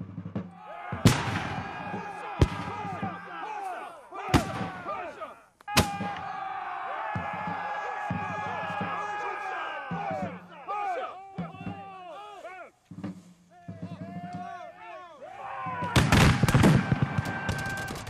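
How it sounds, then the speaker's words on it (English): Black-powder musket shots crack out in separate loud bursts at a reenactment of the Battle of Guilford Courthouse, set against continuous wooded-battlefield noise with drum-like thumps and a heavy volley near the end; voices are mixed in. "the first shots of the battle have been fired"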